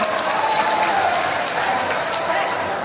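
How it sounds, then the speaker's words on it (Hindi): A large political rally crowd in Samastipur applauds, a continuous dense wash of clapping spread wide and steady, with crowd voices blended in beneath it. "एक बार लगा दो यार ताली।"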